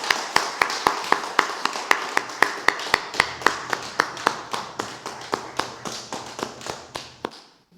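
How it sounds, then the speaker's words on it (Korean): Congregation in a church clapping in unison at a Sunday service, a steady rhythmic series of sharp, loud claps about three per second that gradually slow and fade, with no talking. "하나님께 영광의 박수 올려드립니다."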